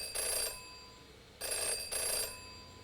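A telephone rings in the Jenny LeClue video game, three electronic trilling bursts in a steady pattern, loud and clear with nothing else underneath.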